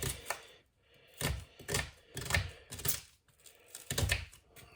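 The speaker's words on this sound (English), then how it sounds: "just get it in dices. Don't want great big chunks. It's only a medium onion anyway I'm using" A knife dices a medium onion on a board, producing quiet irregular clusters of close chopping taps separated by short pauses.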